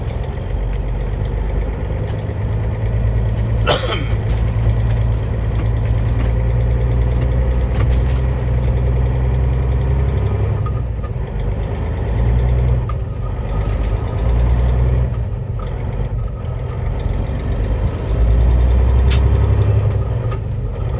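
A Kenworth 387 donor truck in rough condition idles steadily with a deep, rumbling diesel drone, a brief sharp hiss near the start and a few clanks over the engine.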